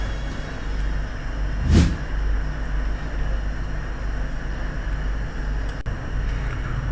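An Indonesian presidential Maung car drives past once, a brief swelling whoosh over steady low road and wind rumble.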